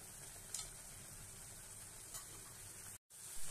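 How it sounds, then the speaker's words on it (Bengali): Ghee sizzles quietly and steadily in a pan of cabbage and potato curry, with a couple of soft stirring scrapes and a brief dropout near the end. "এবার একটুখানি ঘি দেবো ওর মধ্যে, তাহলে টেস্টটা আরও ভালো হবে।"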